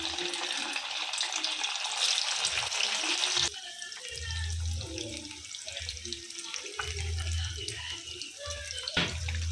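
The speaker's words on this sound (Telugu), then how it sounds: "ఇప్పుడు పన్నీర్ ముక్కలు వేసి వేయించుకుందాం నూనెలో." Paneer pieces drop into hot oil in a kadai and sizzle, a bright continuous hiss that shifts midway, with faint clinks and low thuds from nearby handling.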